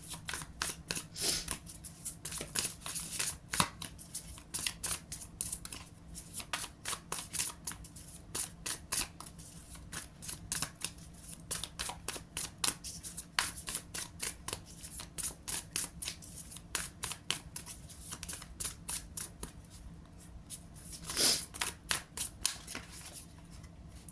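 Tarot cards being shuffled in long, continuous riffling runs of crisp paper flicks, close and fairly loud, with brief pauses and a few louder snaps, and no talking.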